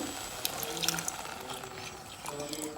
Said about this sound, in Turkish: Şimdi ben yarım litre sütümü direkt ekliyorum ve karıştırıyorum.